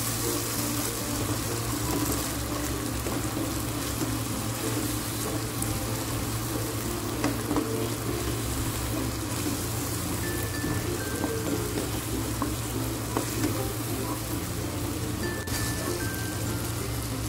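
Food stir-fried with oyster sauce and sweet soy sauce sizzles steadily in a hot pan, a dense, even crackling hiss that continues throughout with faint scraping of stirring.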